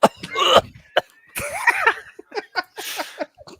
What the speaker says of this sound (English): Just cough a few times first.